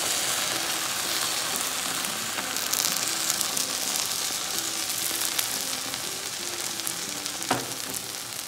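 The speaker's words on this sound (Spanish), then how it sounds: "Ahora solamente le vamos a agregar la salsa." Eggs and salsa sizzle loudly and steadily in a frying pan on the stove, a constant hissing crackle with a brief clatter near the end.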